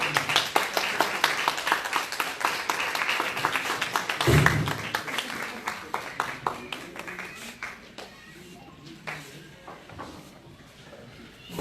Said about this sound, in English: give a rousing round of applause to Dr. Collie and welcome him as he comes to the lectern